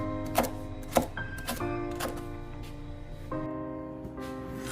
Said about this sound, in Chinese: 准备一把新鲜的蒜苔，将蒜苔切成长段